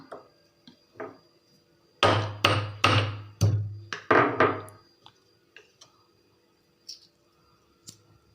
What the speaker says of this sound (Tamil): ஒரு இடிக்கல்லையோ இதுலையோ ஒன்றில் போட்டு இதை நல்லா தட்டிட்டீங்க அப்படின்னா பாருங்கள் உடஞ்சிருச்சு